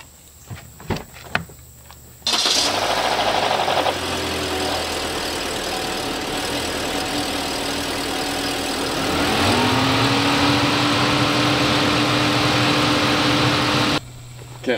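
A car engine cranks and catches after sitting unused for about three days, then settles into a steady idle with a loud radiator fan roaring continuously over it, a faint whine rising partway through.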